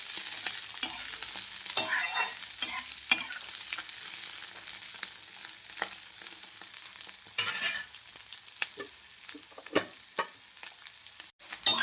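Bitter gourd pieces fry in hot oil with a steady close sizzle, broken by repeated scraping stirs of a spatula through the pan; no one speaks.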